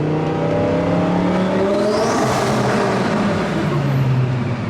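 A twin-turbo Audi R8 engine roars and revs hard on a Los Angeles street, loud and continuous, with a rising whine sweeping through as it accelerates nearby.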